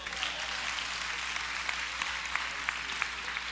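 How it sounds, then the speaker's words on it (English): Audience applause at a lecture, a dense, even wash of many hands clapping at moderate distance, sustained throughout without voices. "Come on, clap anyhow."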